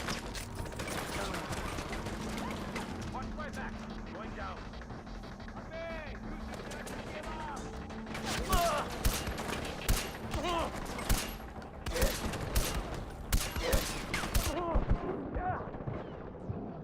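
Rapid gunfire bursts from Far Cry 4, a first-person shooter, crack out in clustered volleys over a steady din of game ambience, growing denser and louder in the second half while someone talks over it.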